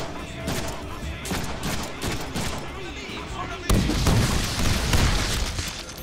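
Enemies exploding in the Deadpool video game, a dense rattle of bursts and booms that grows louder and heavier halfway through, with a player talking over the action.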